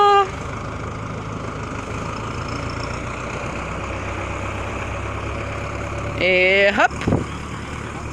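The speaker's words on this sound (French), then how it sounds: "C'est vraiment une chouette invention le tracteur, hein." Tractor engine running steadily with a continuous low diesel drone throughout, rising briefly near the end as a person speaks a short word.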